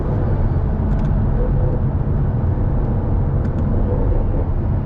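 A 2017 Jaguar F-Type R AWD with a 550 hp V8 drones at steady speed on a highway, a loud continuous low rumble of engine and road noise heard from inside the cabin.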